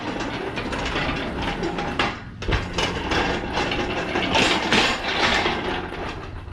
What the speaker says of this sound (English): We get to move the engine hoist.